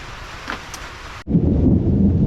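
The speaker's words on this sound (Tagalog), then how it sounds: "Ay, kumukulog na" A low rumble of thunder rolls in suddenly and stays loud, over a steady hiss of rain.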